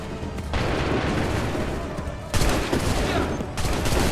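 Soldiers fire musket volleys in the video game Assassin's Creed III during the Battle of Bunker Hill, a dense crackling fusillade with booming bursts near the start and in the middle, under a steady roar of battle.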